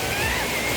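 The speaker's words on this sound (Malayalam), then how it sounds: "ഇതാ ദുദ്സാഗർ വെള്ളത്തിന് താഴെ എത്തിയിട്ടുണ്ട് കേട്ടോ. അങ്ങ് ടോപ്പിൽ നിന്നാണ് വെള്ളം വരുന്നത്." Dudhsagar waterfall roars from the base of the falls, a loud, continuous rushing of water with no other sounds.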